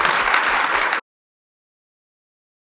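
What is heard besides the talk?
audience applause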